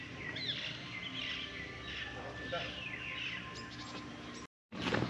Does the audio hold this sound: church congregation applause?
no